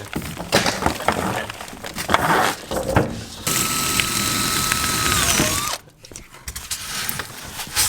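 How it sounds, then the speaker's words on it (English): A power drill whines in a long steady burst, surrounded by clatter and handling knocks, then stops and is followed by rustling, while fixing parts into concrete formwork for an indoor ICF pool. "I could drill it all from here."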